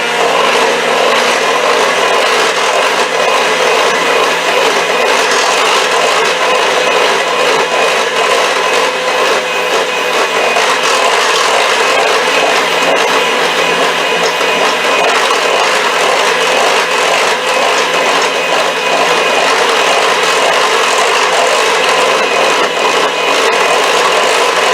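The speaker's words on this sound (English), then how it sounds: "I'm going to mix that up" Lemon juice and peel are mixed into the batter for a lemon chocolate marble cake, giving a steady, loud, continuous whirring and churning that runs unbroken the whole time with no talking.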